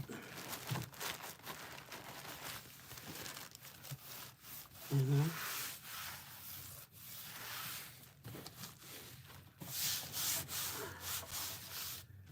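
Mod Podge is rubbed by hand onto a canvas in a series of faint, soft scuffing strokes, with brief pauses between them and quiet background sounds.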